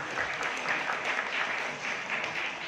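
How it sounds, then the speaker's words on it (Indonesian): An audience at a Quran recitation gathering and Nuzul Qur'an commemoration at an Islamic boarding school claps in a moderate, steady wash of applause, fairly even with slight swells and no clear speech. "Beri tepuk tangan yang mulia"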